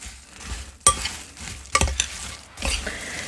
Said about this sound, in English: I'm just going to take a spoon and just kind of mix this to try to distribute everything pretty evenly